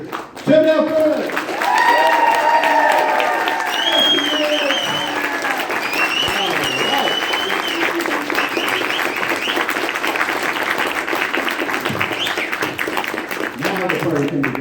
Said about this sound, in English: let's show her a really, really big Texas round of applause